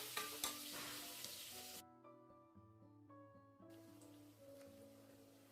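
Two cups of onions softening in a pan for mutton dum biryani, with a steady close sizzle that stays under a few overlaid tonal notes and the clink of stirring.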